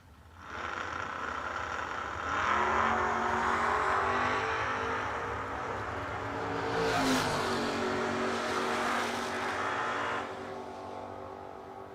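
Drag race cars, a 1964 Chevy and a 1968 Camaro, launch side by side down the strip at Yellow Bullet Nationals, their engines rising to a loud sustained roar that holds for about ten seconds before fading.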